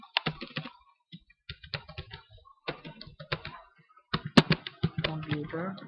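Typing on a computer keyboard, irregular clusters of quick key clicks in short runs with pauses between, close and fairly clear, while someone talks at times.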